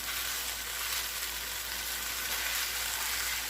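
Vegetables and noodles fry in a hot pan with a steady, even sizzle, soft and continuous throughout with no talking.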